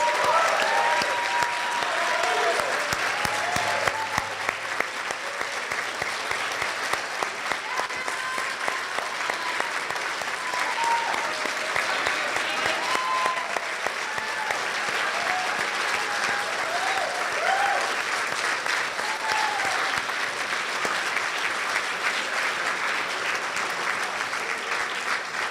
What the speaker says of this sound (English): Let's have one more round of applause for our candidates.